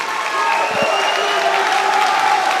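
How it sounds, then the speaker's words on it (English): Crowd cheering and applauding at a Polaris grappling event, a steady wash of claps and roars filling the hall, with a brief louder burst partway through. "The crowd's going wild here."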